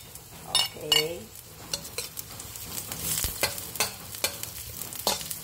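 Garlic and onion sautéed in a pan for beef kaldereta, with a soft sizzle under repeated sharp clinks and scrapes of a metal spoon against the pan, close by, with brief vocal sounds early on.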